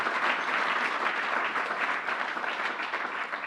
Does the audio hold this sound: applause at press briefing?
yes